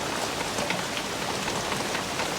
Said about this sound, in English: Light rain off and on, probably throughout the night.